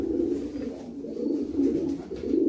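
A breeder pigeon hen, a long and medium distance racing bird, gives soft repeated low coos close by, a short run of throaty murmuring calls with no talking.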